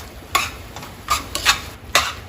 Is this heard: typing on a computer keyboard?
no